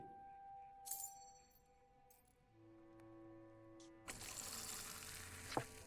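A drink with a foamy head being poured in the Xbox 360 game Fable 2: soft clinks and steady tones give way to a louder, rushing splash of liquid that continues to the end, with a sharp clink near the close.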